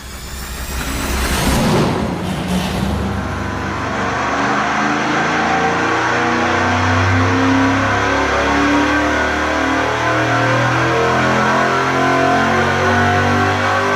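A Chevy 305 V8 running SAE 60 weight oil on a dyno revs hard, a brief sharp burst leading into a loud, sustained, droning roar that holds steady at high load throughout, close and without talk.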